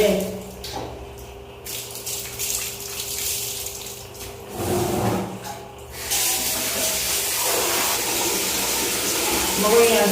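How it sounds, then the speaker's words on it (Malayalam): Water splashes and pours over a puppy during its bath, running in uneven bursts with a steady spray-like wash, while someone talks to the pup throughout. "വെള്ളം ഒഴിക്കട്ടെ."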